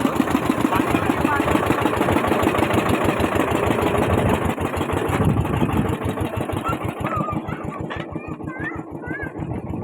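A small boat's engine runs steadily on a river during a jungle safari, a loud continuous mid-pitched chug with rapid regular pulses throughout, easing slightly toward the end while faint chirps appear in the background.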